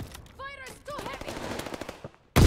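Heavy machine gun fire in Call of Duty: Vanguard during an 8v8 team deathmatch on Hotel Royal, with a short voice and rattling shots leading into a loud, abrupt burst at the end.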